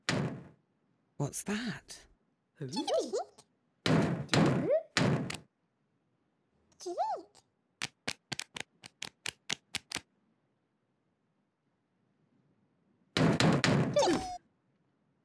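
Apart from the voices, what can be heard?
knocking at the door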